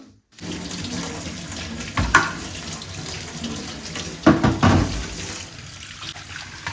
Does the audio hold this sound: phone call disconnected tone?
no